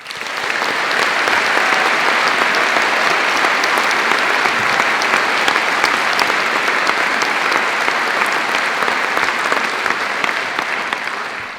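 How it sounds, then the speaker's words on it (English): A dense, sustained round of audience applause at a university graduation ceremony, greeting musicians from the Birmingham Conservatoire, loud and steady throughout before easing slightly at the very end. "Please join me in giving them a warm round of applause."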